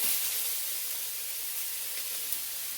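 Two medium finely diced onions sizzle in a hot pan, a dense, steady hiss that runs close and loud without break.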